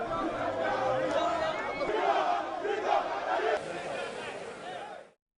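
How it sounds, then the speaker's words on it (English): A crowd of supporters gathered near a court chants freedom songs and slogans, a dense, steady mass of voices that fades out abruptly at the end. "the crowd of supporters who had gathered near the court continued to chant freedom songs and slogans in a peaceful manner"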